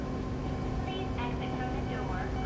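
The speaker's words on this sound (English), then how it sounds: "Oh, look, there's another train" Steady rumbling hum of a passing train in the railway video game Japanese Rail Sim: Journey to Kyoto, a continuous drone with faint whining tones rising and falling, with some talk.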